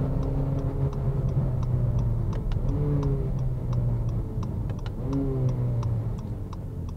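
A 2019 or 2020 Acura ILX in sport mode, heard from the cabin as a steady engine drone with rising and falling rev sweeps as gears change, and a regular ticking turn signal clicking throughout.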